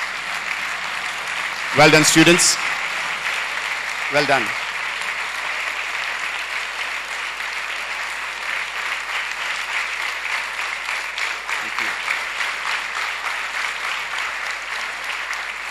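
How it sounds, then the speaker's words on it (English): Audience applause for students after a school production of The Hunchback of Notre Dame, a dense steady round of clapping across the whole stretch, with a voice speaking briefly over it near the start. "can we all rise and give them a round of applause?"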